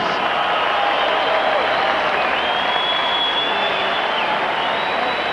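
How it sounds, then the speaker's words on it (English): A Las Vegas arena crowd at Mandalay Bay applauds two 126-pound boxers after their fight, a sustained roar of clapping and crowd noise with a thin whistle-like tone drifting above it. "a round of applause for these two 126-pound warriors"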